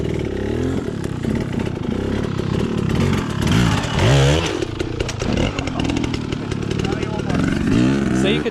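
A dirt bike engine revs loudly and close, with throttle blips surging and falling over a continuous rough idle while someone talks throughout.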